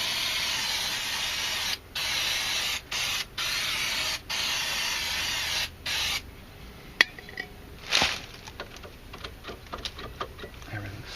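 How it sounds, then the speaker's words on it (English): Brake cleaner sprays onto the rear brakes of a 2004 Hyundai Santa Fe in several short, loud hissing bursts, then fades to quieter ticks and light clatter nearby. "a little bit of brake cleaner to see what's going on in there"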